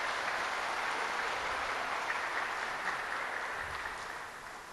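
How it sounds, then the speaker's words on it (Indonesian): Audience at a village development event applauds, a broad, even patter of many hands clapping that holds steady and then fades toward the end, moderately distant. "Tepuk tangan."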